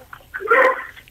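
A dog barks once at close range, a short loud yip.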